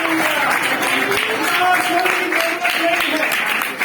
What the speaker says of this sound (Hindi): तालियां बजाओ अपने राजा के लिए कि वो आपके लिए आ चुका है